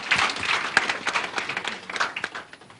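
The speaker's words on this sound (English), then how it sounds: "Make una clap for ourselves." Attendees at an anti-corruption and whistleblowing day programme applaud, giving a short burst of moderately close clapping that tapers off.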